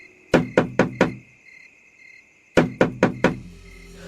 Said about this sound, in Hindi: तभी खटखटाने की आवाज आई।